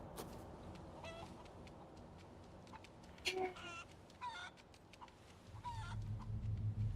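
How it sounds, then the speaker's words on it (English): Several chicken clucks from Resident Evil 4, scattered and moderately close, over a low rumbling game background that swells toward the end. "Chicken!"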